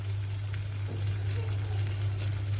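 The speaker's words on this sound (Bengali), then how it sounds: "বেটে রাখা মশলাগুলো ভালো করে ভাজা হয়ে গেছে" Ground spice paste frying in a pan for a beef kofta curry: a steady, close crackling sizzle over a constant low electrical hum.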